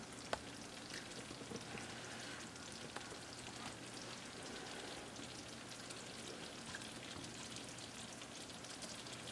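A pot of fettuccine Alfredo sauce bubbles and sizzles on the stove, a steady crackling hiss with faint pops, close and quiet, with no talk over it.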